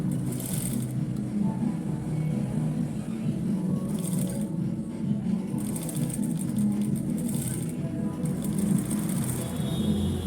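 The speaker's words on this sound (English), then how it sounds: "I'm going to be sewing this" A sewing machine stitches a suit collar, running as a steady close whirring drone with a low mechanical hum throughout and faint higher clatters that rise and fall.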